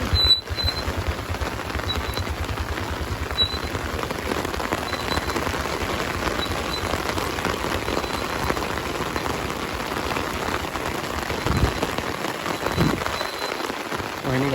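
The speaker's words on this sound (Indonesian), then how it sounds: "hujan." Heavy rain pours in a steady, dense roar on a steep road, a continuous loud hiss of drops drumming on surfaces throughout, with a brief thump near the end.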